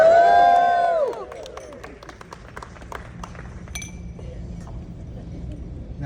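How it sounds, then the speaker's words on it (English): Glasses clink in a toast at a quilt industry award ceremony: a scatter of sharp, bright clinks over a murmuring crowd, after a brief sustained tone at the start. "please raise your glass for a toast to Miss Karey Bresenhan for 45 years of an"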